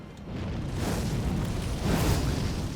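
A flame weapon skill cast in an action game, heard as a sustained loud roaring whoosh of fire with a rumbling low boom, continuous and close throughout without any talking.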